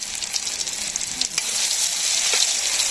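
Garlic hits a hot pan in a Bangladeshi village kitchen, where taro leaves are being cooked with dried shrimp, salt and chili powder, and a bright, steady sizzle rises and holds close by.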